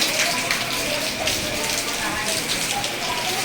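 Heavy monsoon rain pours steadily outdoors where a car is stuck in mud, a dense, constant hiss of drops close by with no break.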